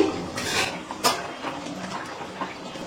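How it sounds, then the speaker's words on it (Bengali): A spoon scrapes and stirs potatoes for aloo dum in a pot, with a couple of clear metallic clinks early on, then steady soft scraping close by. "এবার একটু নাড়াচাড়া করে নিচ্ছি।"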